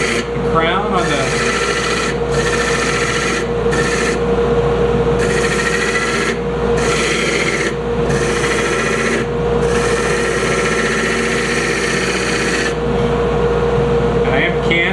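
A carbide tool cuts a bangle turning on a lathe, making a loud, steady rasping scrape with regular pulsing bursts as the cut continues, over a constant motor hum.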